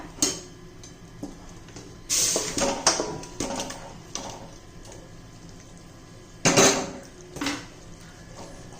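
Chicken pieces being layered into a biryani pot, heard as a few sharp metallic clanks and scraping bursts of utensil against the pot, separated by quiet stretches.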